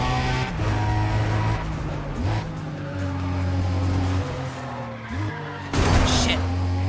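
Car engine in Need for Speed ProStreet revving and dropping in pitch as gears shift with the clutch, several upshifts in steady rhythm with tire noise, loud and close, with a rushing burst near the end.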